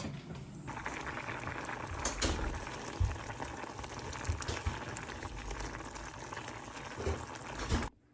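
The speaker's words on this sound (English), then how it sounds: "we're just going to simmer these until most of that water is gone" A pot of potatoes simmers in boiling water on the stove with a steady, dense bubbling and hiss, close by and continuous, with a few louder pops along the way.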